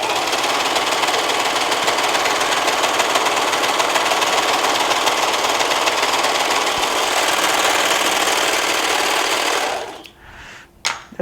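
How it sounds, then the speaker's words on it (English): A Brother serger runs fast in one loud, continuous, even whir for about nine seconds, then cuts off abruptly, leaving a few faint clicks and no speech. "what will happen on this machine, if I start going too fast,"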